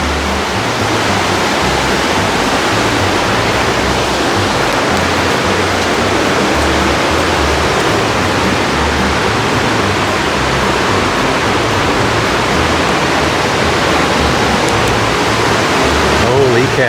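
A river rushes and roars through a marble cave, a loud, dense, continuous wash of turbulent water that holds steady the whole time.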